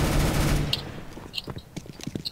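Pistol gunfire in a Counter-Strike: Global Offensive match: a loud burst of shots at first, followed by scattered sharper cracks and faint footsteps-like ticks, with no clear talk.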